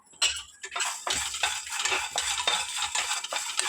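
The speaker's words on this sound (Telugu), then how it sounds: "నూనె వేయకుండా ఫ్రై చేసుకోండి" Cardamom pods, cloves and black peppercorns being dry-roasted in a pan with no oil give a run of close, dry scraping and clinking strokes as a spoon stirs them, with no talking.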